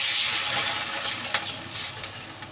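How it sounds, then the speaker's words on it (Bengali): Water is poured into a hot pan of frying, turmeric-spiced food in a home kitchen, giving a loud hissing sizzle that slowly fades, with a brief clink of a utensil and a second burst of sizzling. "জল দিয়ে দিলাম"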